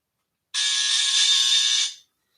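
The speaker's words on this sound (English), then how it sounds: "I just gave myself a buzzer" A single loud electronic buzzer, a harsh flat tone held steadily for about one and a half seconds before it cuts off, heard alone with nothing around it.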